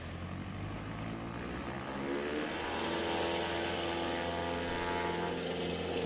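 A small STOL airplane takes off at the Appalachian STOL Competition in Clarion, PA. Its steady propeller drone holds throughout and swells slightly as the plane leaves the ground, with no talking.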